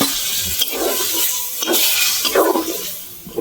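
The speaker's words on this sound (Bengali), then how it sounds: "1 ঘটি জল দিয়ে দিচ্ছি, ছোট ঘটি, বেশি জল দেব না।" Water poured from a small pot into a simmering cucumber and prawn curry, a near, steady splashing and trickling pour lasting a few seconds with brief louder gushes.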